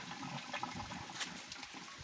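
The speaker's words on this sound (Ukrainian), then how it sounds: "Пішла вода." Water rushes steadily through cast-iron heating radiator piping during a flush, a continuous hissing, gurgling flow, moderately loud and close, with no voices.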